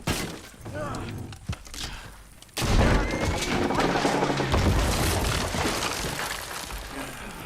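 A house being demolished in the video game Red Dead Redemption 2, with a few scattered knocks, then a loud, sudden crash that gives way to a long, rumbling clatter of breaking timber and falling debris.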